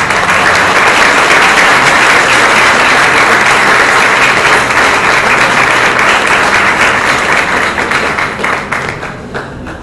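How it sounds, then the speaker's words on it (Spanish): Sustained, dense theatre applause from a large audience in Paraguay rolls on steadily and loud, then tapers off near the end. "Este aplauso es para todos ustedes."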